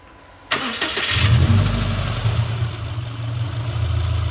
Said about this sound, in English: you know you could just start your car with this